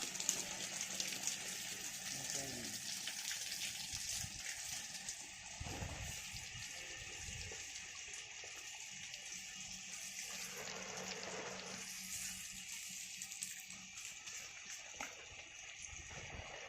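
Water pours steadily from a hose or tap onto tomato plants in a home vegetable garden, a continuous soft splashing hiss that stays faint and even throughout, with no talking.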